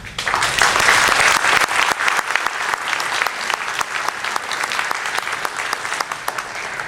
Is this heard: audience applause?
yes